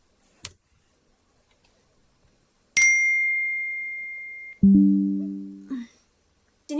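An app's alert for a new customer order rings out as a bright single chime that sustains, followed by a lower two-tone ding, separated by brief clicks in an otherwise quiet room.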